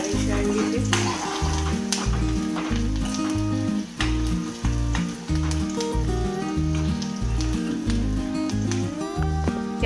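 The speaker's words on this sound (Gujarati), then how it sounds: "હલાવતા રહીશું આવી રીતે" Green corn chevdo with curry leaves, garlic paste and chillies sizzles and fries in a pan while being stirred, a loud steady crackle with rhythmic scraping strokes of the spoon repeating throughout.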